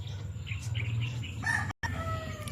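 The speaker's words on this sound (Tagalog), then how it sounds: "ang mga manok ni Boss Mado" Rooster crowing in a backyard vegetable garden, a faint distant call over low steady background rumble, with a brief cutout partway through.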